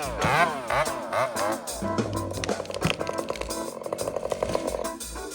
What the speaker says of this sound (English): that's one thing about rip saws, power saws that I've appreciated through the years. They just fire up